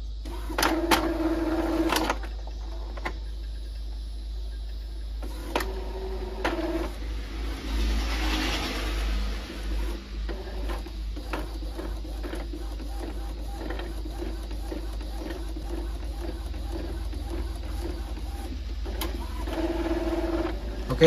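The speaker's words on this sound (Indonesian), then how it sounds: "Kita coba cek nozzle dulu." Epson L1250 inkjet printer running a nozzle check, with mechanical whirs, clicks and carriage movements that start and stop in bursts over a low steady hum, heard close and without talk.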